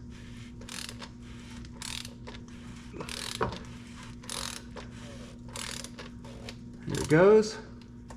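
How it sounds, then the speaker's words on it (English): A torque wrench ratchets on an oil pan bolt of a 2018-2023 Volkswagen, a series of short mechanical clicks ending in a sharp pop, close and clear, with a brief spoken remark. "So we're just going to go here with our torque wrench until it pops."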